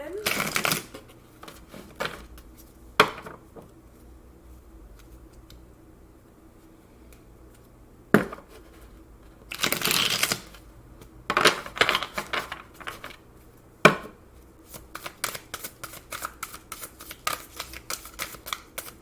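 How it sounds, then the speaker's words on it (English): Tarot card shuffling in bursts, with several quick riffles and scattered short snaps and taps between quieter stretches, fairly close. "I'm going to shuffle these for you"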